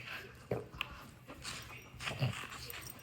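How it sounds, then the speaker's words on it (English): Pet dogs at home make soft whimpers, yips and panting breaths, quiet and close, in brief scattered bursts over about three seconds. "check out this cute video of my dogs"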